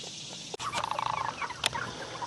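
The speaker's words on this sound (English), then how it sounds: "we take a short time out to watch chickens." Chickens call out nearby, a run of quick clucking notes followed by a sharper cry, with quiet surroundings.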